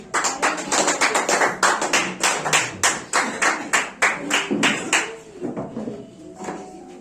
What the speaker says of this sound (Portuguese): Sentam aplaudindo o Senhor e glorificando.